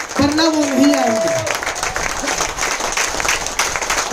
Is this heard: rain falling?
no